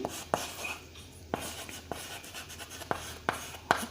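Chalk or marker taps and scratches on a classroom board during a physics lesson, making a series of short, sharp strokes at an irregular pace against a faint, steady room background.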